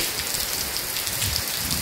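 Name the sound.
heavy rain falling in Ongole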